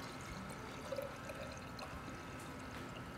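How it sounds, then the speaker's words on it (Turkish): White vinegar is poured for a homemade toilet cleaner, a faint, steady liquid pour and trickle heard quietly and close. "Döküyorum."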